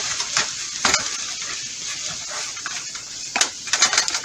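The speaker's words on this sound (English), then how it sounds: "Next, I am adding a half a cup of beef broth. And I'm just stirring that in." A spoon stirs half a cup of beef broth into enchilada beef in a pan. Scattered scraping strokes and soft clinks come in short bursts over a quiet simmering hiss, with no talk.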